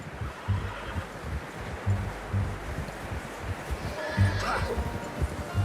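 A horse whinnies partway through in the video game Red Dead Redemption 2, over a rustling outdoor background with low, plodding hoof sounds.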